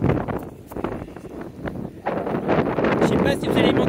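Gusting Mistral wind buffets an outdoor microphone on a trek in the Verdon, a loud continuous roar and rumble that swells and surges throughout.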